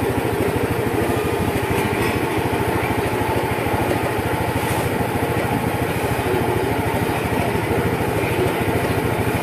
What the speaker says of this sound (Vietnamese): Hiện giờ nó đang chờ cho cái động cơ mình nó nóng lên